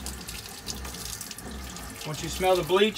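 Water runs steadily from an RV faucet during fresh water tank sanitizing with bleach, a continuous close splashing flow with a person speaking over it.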